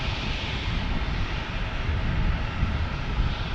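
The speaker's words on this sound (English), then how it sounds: "our next arrival, Sandra says, is Southwest 1293 from Nashville on a 737-800" A Southwest Boeing 737-800 arriving from Nashville at San Diego gives a steady, broadband jet roar. The sound stays loud and close with no gaps through the short stretch.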